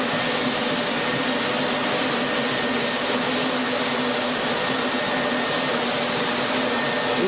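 A Klindex Timba floor machine runs with a steady, loud, broadband whirring roar, constant and close with no breaks.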